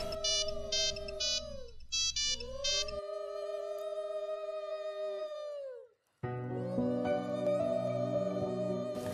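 A mobile phone plays a melodic electronic ringtone loud and close, with bright chiming phrases that break off briefly and then start again.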